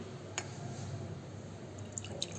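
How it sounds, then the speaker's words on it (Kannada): Decoction liquid pours into a cooking pot, a soft, steady trickle with a few faint drips throughout. "ಇವಾಗ ಡಿಕಾಕ್ಷನ್ ಹಾಕ್ತಿದ್ದೀನಿ"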